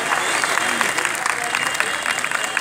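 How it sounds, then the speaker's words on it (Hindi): An audience at a 74th Republic Day celebration applauds in a dense, continuous burst of clapping with some voices mixed in throughout. "एक बार जोरदार तालियां यामीन भाई।"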